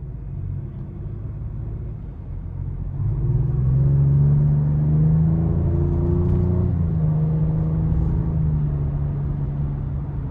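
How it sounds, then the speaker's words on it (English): A 2026 Ford Explorer ST gives a low engine and exhaust rumble that swells into a louder, rising rev partway through, then holds a steady drone, heard from nearby with no speech. "The overall sound is fantastic from the exhaust, from the engine bay."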